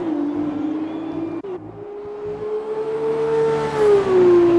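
Formula 2 race car engines at a British circuit, one car's sustained high-pitched engine whine holding steady and then dropping, with a second engine layered beneath, loud and continuous throughout.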